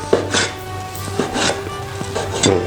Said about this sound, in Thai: หั่น ตามขนาดที่ท่านชื่นชอบ ชอบประมาณนี้หั่นประมาณนี้